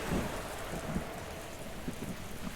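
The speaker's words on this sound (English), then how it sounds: "Waves battered the ship, rain lashed the deck" Steady heavy rain pours down with low rumbling thunder rolling underneath, continuous and fairly loud, with no voices.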